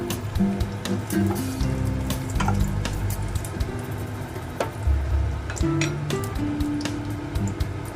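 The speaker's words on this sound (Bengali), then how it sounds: "এবার আমি ওই তেলেই আরেকটু সরষের তেল দিয়ে কটা জিরে, একটা শুকনো লঙ্কা, তেজপাতা দিয়ে দিলাম।" Cumin seeds, a dried red chilli and a bay leaf crackle in hot mustard oil, with a steady loud sizzle throughout and occasional stirring clinks near the pan.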